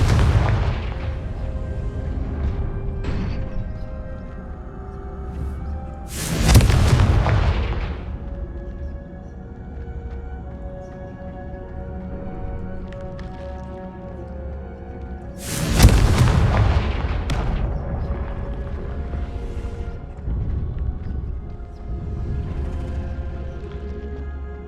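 In the video game Hogwarts Legacy, the Confringo explosion spell booms twice, each blast loud and sudden with a rumbling tail. Softer game effects and a low hum carry on between the two explosions.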